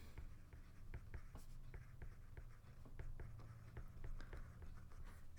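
A pen writes on paper in a geometry lesson, giving quiet, close scratchy strokes and light taps in an irregular rhythm throughout.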